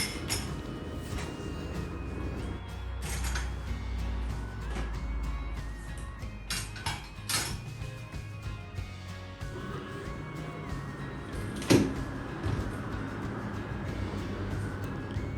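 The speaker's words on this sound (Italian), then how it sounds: "lo metto in lavastoviglie, ecco." A metal grill rack clatters into a home dishwasher during kitchen cleaning, with a few sharp clinks and knocks scattered over steady background music.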